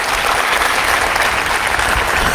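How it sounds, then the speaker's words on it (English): At a third-grade literacy town hall for Birmingham City Schools, an audience gives a loud, dense round of applause for the mayor, continuous and close throughout the short stretch. "I think we should give a round of applause for our mayor"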